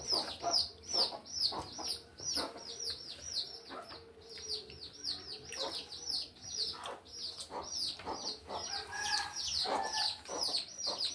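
Chickens cluck repeatedly in quick, overlapping bursts, close and fairly loud, with faint chirps among them and no one speaking.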